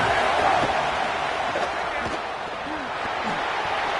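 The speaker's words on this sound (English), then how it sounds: "This crowd ready to make its presence known." A college football stadium crowd sends up a steady, dense roar that holds fairly even throughout, with a faint voice buried in the wash.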